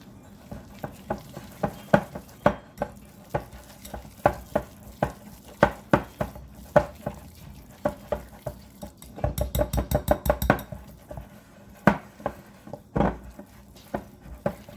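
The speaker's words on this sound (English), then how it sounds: "So now I'm going to go ahead and I'm going to mix this up together." A spoon stirring orange icing made with orange juice and orange extract in a bowl, giving close, rhythmic clinks and scrapes against the bowl in a steady beat, with a quicker burst of taps partway through and no voices.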